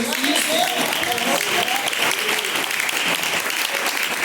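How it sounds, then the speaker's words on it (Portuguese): A church congregation claps for Jesus during a live worship service, a dense continuous wash of many hands under faint overlapping voices, steady and loud throughout. "As palmas para Jesus."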